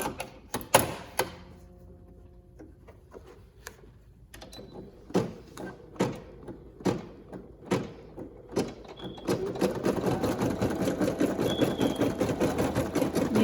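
A Brother PE800 embroidery machine stitching with gold thread: a series of separate mechanical thumps and clicks, then a steady rhythmic whirring of fast stitching that continues to the end.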